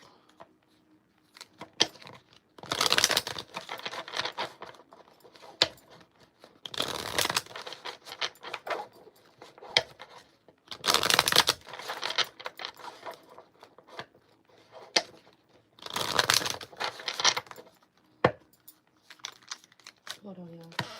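A deck of tarot cards is shuffled in several bursts of crisp riffling and flicking, close and fairly loud, with brief pauses between bursts.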